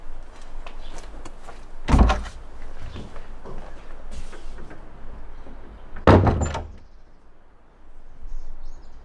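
A door swings shut twice, each close landing as a solid thud with a brief rattle, separated by a few seconds of quiet outdoor ambience with no voices.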